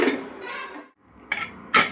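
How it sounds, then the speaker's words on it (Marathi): A pressure cooker lid is lifted off a pot of vegetable dalia khichdi. There are a few close metallic clinks and clanks with a short pause between them. "इथे मी कुकरचं झाकण काढून घेते"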